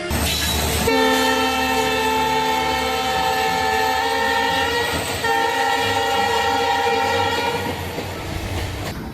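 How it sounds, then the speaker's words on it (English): A train roars past loudly with a sustained, blaring horn held for several seconds over heavy rumbling. "a train is approaching at high speed"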